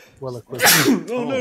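A sudden loud sneeze bursts out at close range, a single sharp explosive blast, with people talking just before and right after it.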